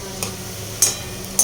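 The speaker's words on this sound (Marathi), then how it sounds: "तर मी इथे मंद आचेवरती गुलाबजामुन जे आहे ती तळून घेणार आहे" Gulab jamun balls fry in oil on low heat, giving a steady soft sizzle with occasional brief clinks or scrapes from stirring, close and alone.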